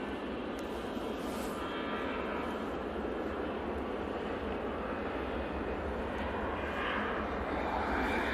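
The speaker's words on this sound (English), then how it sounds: "Lufthansa going back to Frankfurt." A Lufthansa airliner departing Manchester for Frankfurt gives a steady, moderately distant jet roar that carries evenly throughout without pause.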